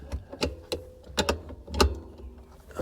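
An 18mm spanner works a bolt on a Mustang, giving a series of sharp metallic ratcheting clicks in irregular bursts, close and fairly loud.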